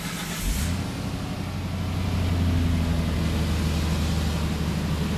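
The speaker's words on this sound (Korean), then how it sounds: "자, 시동 한번 걸어보세요" A car engine cranks and catches on a cold morning start, then settles into a loud, steady idle with a low drone, close by with no talk.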